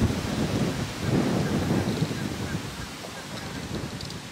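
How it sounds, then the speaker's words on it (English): Thunder from an approaching storm rumbles low and steady, with wind buffeting the microphone at a truck campsite, a continuous deep roll swelling and easing with no talking. "And the storms are rolling in."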